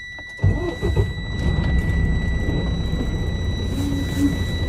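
A truck engine cranks and catches, then settles into a steady, loud idle rumble. A faint constant electronic whine runs throughout.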